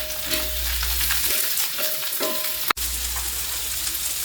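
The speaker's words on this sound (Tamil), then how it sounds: "இந்த வெங்காயத்தை நல்லா வதக்கிக்கலாம்." Chopped onions sauté in hot oil with curry leaves for an egg masala, giving a steady, continuous sizzle with occasional stirring scrapes and one sharp click near the end, with no talking.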